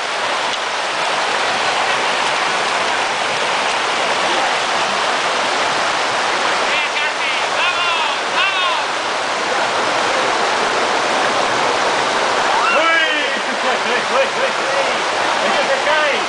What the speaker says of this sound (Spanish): Vas a pasar por el río, Jaime.